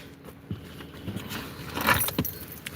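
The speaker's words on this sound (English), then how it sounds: "Grab my keys." A bunch of keys jangles in short metallic bursts as it is grabbed and handled close by, alone with no talk, over a faint background hum.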